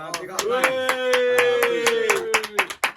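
Several people clap in a podcast studio, producing a series of sharp, uneven hand claps close to the microphone while someone speaks and vocalizes over them throughout.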